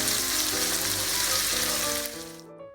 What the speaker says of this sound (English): As I let my sauce caramelize, my vegetables, my onions and carrots caramelize